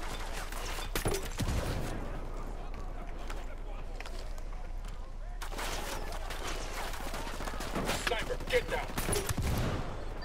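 Gunfire in the video game Ghost Recon Wildlands, bursts of rapid shots in several volleys over a steady game backdrop, with a voice talking at times.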